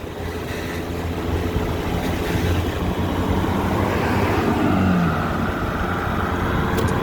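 A Honda Dio AF27 two-stroke scooter rides along a city avenue, its engine buzzing steadily under loud wind and road rumble with no voices, the pitch briefly rising as it accelerates.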